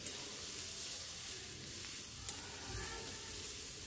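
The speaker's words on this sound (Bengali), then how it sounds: "আর হলুদ দিয়েও বেশ কিছুক্ষণ এটাকে ভেজে নেব।" Eggplant fries with turmeric in a pan, giving a soft, steady sizzle and hiss that continues evenly with a small clink partway through.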